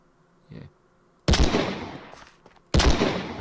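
Guns from the Scorched Guns mod fire in Minecraft: a faint early pop, then two loud, sharp gunshots with short ringing tails, each standing alone.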